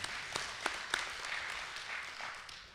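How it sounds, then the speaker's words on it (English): Audience applause at a Dixie Fire community meeting hosted in a church, a modest scattered clapping from a small crowd, fairly soft and fading over a few seconds. "Let's give them a round of applause."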